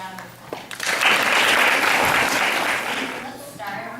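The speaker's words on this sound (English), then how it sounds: "Give yourself a round of applause." A soccer banquet crowd breaks into a sustained burst of clapping that swells, holds for a few seconds, then tapers off, with some voices mixed in.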